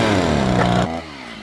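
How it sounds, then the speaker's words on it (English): Small engine of a chainsaw running near a toddlers' ride-on convertible car, a loud harmonic buzz that sags in pitch and then drops to a quieter idle partway through. "But he figured out the chainsaw."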